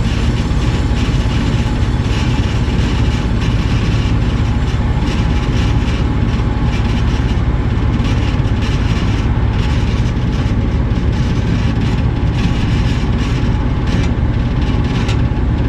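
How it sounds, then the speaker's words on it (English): The burners of an American Standard gas furnace in an office rattle in a loud, continuous, rough roar that holds steady and close throughout, with no talking. "Burners are rattling."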